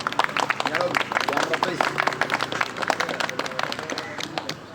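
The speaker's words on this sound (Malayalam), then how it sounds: "ഒരു കയ്യടി എടുത്തോ." A crowd at a trophy presentation breaks into a round of applause, with sharp, close claps scattered throughout, heard under a person's ongoing talk and other voices.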